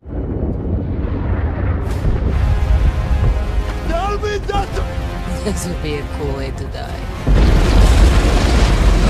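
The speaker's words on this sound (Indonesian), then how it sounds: "Akibat ledakan itu, longsor salju pun terjadi" A heavy, rumbling explosion in a film rolls on with a dense roar and debris-like crackle, triggering an avalanche, then a second louder surge of rumbling near the end.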